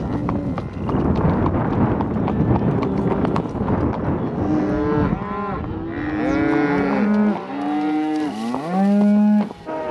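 Cattle on a big drive up to the mountain low and bellow repeatedly, several overlapping moos close by, with rustling hooves and light wind noise at the start and no talk.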